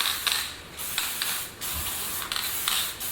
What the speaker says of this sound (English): next we can spray it on your engine